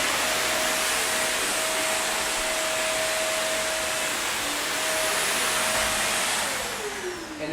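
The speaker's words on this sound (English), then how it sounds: "you could just suck them up with the vacuum" A Shark vacuum cleaner with an extension wand runs with a loud, continuous whooshing whine up close, its pitch dropping slightly as it winds down near the end.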